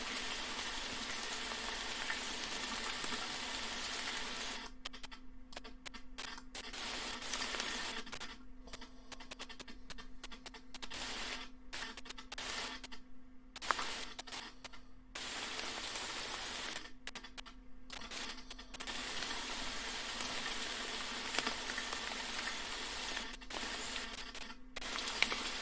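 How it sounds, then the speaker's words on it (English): Steady rain hiss runs through the whole stretch alone, broken by abrupt dropouts and stutters partway through. "So we're going to fade out the rain sounds a little bit,"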